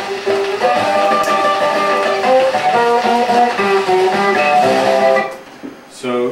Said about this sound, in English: so I recorded that from a 78